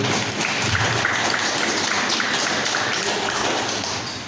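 A church congregation gives a sustained round of applause, a dense, even roar of many clapping hands that fills the hall and tapers slightly at the end.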